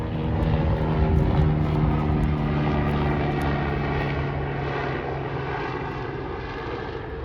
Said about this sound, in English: now we got a helicopter going overhead